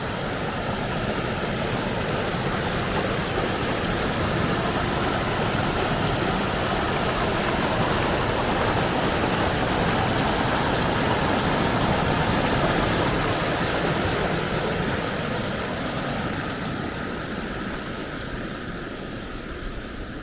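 Floodwater from a swollen river in rural France rushes across a track, a loud, steady broadband roar like a waterfall, unbroken and close throughout with no voices.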